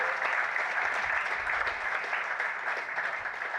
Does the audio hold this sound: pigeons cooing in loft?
no